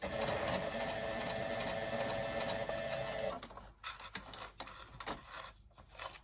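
Sewing machine stitching a Christmas gift card holder from fabric scraps, running in a steady loud whir for about three seconds, then stopping into quieter clicks and handling noises.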